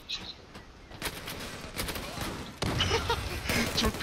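Gunfire in the online shooter Zula, several bursts of rapid shots cracking across a few seconds, fairly quiet in the mix with a louder flurry near the end and short voice fragments between.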